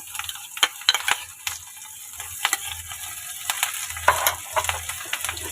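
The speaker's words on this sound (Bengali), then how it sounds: "এবার আমি এর মধ্যে দিয়ে দিচ্ছি আমার কেটে রাখা রসুন কুচো আর" Chopped garlic and ginger sizzle steadily in hot oil, a bright crackling hiss broken by sharp clicks and scrapes of stirring, close and moderately loud with no voices.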